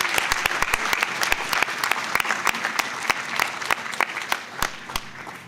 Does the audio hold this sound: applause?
yes